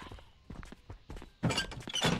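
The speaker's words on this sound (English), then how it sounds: "I hear those fucking bumbling footsteps." Heavy, bumbling footsteps in the video game Zompiercer thud in an uneven rhythm, starting soft and growing louder and closer with dense clunking impacts toward the end.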